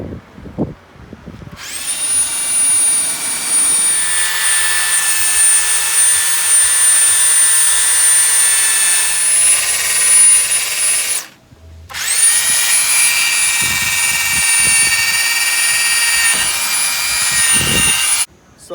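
Makita 12-volt, 4-amp battery-powered power tool whining steadily at high speed, close and loud, in two long runs separated by a short pause.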